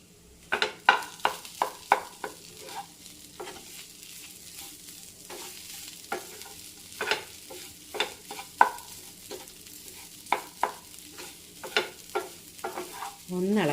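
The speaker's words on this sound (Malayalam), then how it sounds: "ഒന്നിളക്കി യോജിപ്പിക്കണം" A spoon stirs mashed potato thoran with salt in a frying pan: repeated scraping and tapping strokes in an irregular rhythm over a soft background sizzle, close and clear with no talking.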